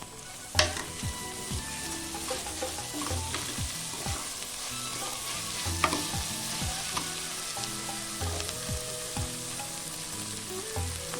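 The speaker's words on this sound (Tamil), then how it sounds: "எண்ணெய் பொரிஞ்சதுக்கப்புறம் வெங்காயத்தை போட்டு நல்லா வதக்கலாம்" Onions sautéing in hot oil for parotta salna, a steady loud sizzle with repeated scraping stirs and occasional utensil clinks throughout, no voices.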